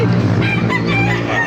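Bantam rooster crowing loudly and close by, one strained drawn-out call at a Filipino bird and pigeon club in Baliuag, with other fowl faintly behind.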